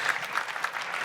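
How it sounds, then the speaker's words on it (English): Brief burst of audience applause at an automotive forum during the Geneva motor show, a steady wash of clapping from a crowd for about a second. "So again, round of applause, I think"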